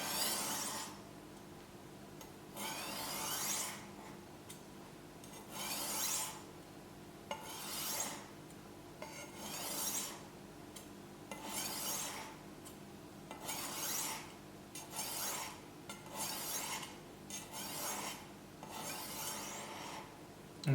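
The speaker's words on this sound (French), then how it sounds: "même avec une petite pierre comme ça, on peut affûter des grandes lames" Kitchen knife blade sharpened on a small whetstone, a steady rhythmic rasping of strokes, each lasting about a second, repeating evenly and close up with no talking.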